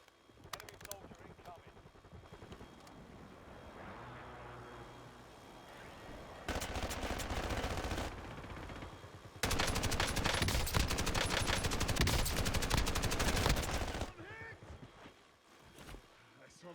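Unsuppressed gunfire from a Merrick-style weapon in Call of Duty comes in long, loud, rapid automatic bursts with a pause between them, mixed with game sounds and faint background talk.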